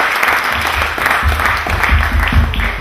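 Loud, full applause from an audience at a panel event, with close, dense clapping and a low rumble of crowd noise throughout.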